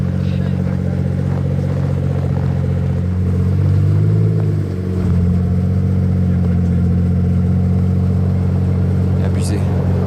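Several Pagani V12 supercars on snow tires, including a BC Roadster and a Huayra coupe, drone loudly and continuously with deep engine tones and a brief rev in the middle, while people talk over the noise.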